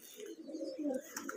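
Several Giribaz pigeons in a Rajshahi loft coo nearby in a steady, throaty burble that holds at an even level throughout the short stretch.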